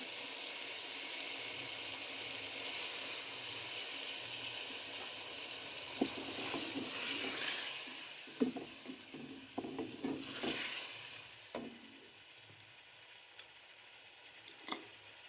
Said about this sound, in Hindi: अब मैं इसमें ऐड करूँगी थोड़ा सा पानी